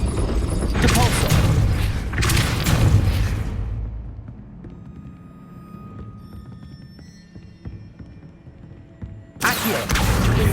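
A Depulso force spell is cast in Hogwarts Legacy, giving a heavy burst of booming, thudding impact that fades into a quieter spell of low rumble before another loud burst strikes near the end.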